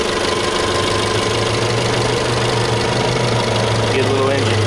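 A 2014 Dodge Dart SXT with a 2.4 liter Tigershark engine idles close by, a loud, steady low hum with a constant vibrating drone and no change in pitch.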